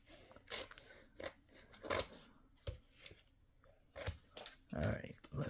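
Scissors snip a small piece off papers during a gluing and scrapbook-style craft session, giving several short crisp cuts mixed with paper rustling and soft handling noise, close to the listener.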